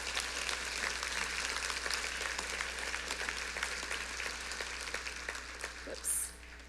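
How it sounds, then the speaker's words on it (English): Audience applause at an annual market-research conference, a continuous wash of clapping from a sizeable crowd that tapers off slightly toward the end over a low steady hum. "Please give them a round of applause"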